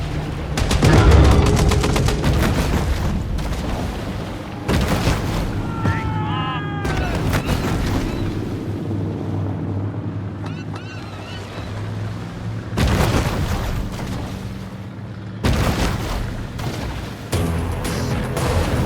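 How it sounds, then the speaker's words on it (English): Explosions and bursts of gunfire in the Maneater shark video game, loud recurring booms and rattling shots over a dense continuous game soundscape for the whole stretch. "The explosion has drawn unwanted attention."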